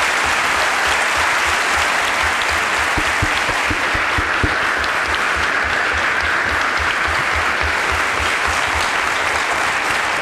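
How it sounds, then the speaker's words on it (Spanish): A large audience at a history lecture in Tucumán gives the historian Felipe Pigna a loud, sustained ovation, a dense continuous roar of clapping that holds steady throughout. "un fuerte aplauso para Felipe Piña"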